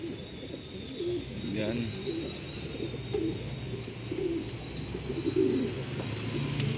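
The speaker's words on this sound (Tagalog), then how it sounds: "Siya mga kalapatids." Pigeons coo repeatedly in a crowded loft, soft throaty burbling calls overlapping at close range, with a person speaking briefly among them.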